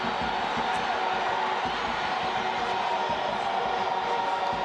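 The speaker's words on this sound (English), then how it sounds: "the fans in blue are cheering every touch and pass of the ball from the Richards Bay FC players at the moment" Football crowd in a stadium at a Richards Bay FC versus Kaizer Chiefs match, a continuous distant roar of cheering fans with no breaks, steady and moderately loud.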